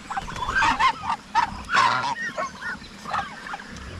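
Several birds call in short, honking bursts, close by and irregular, like turkeys gobbling and clucking over quiet background noise.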